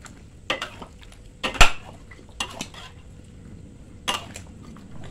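A large wok of chicken curry is stirred with a metal utensil, giving a handful of separate clanks and scrapes against the pan, one especially sharp and loud, over a quiet bubbling background.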